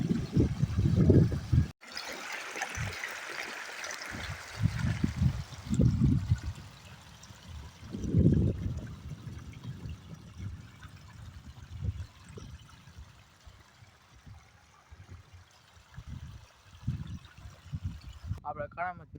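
Irrigation water pumped by a motor trickles and splashes steadily in a field, with a person talking intermittently over the flow.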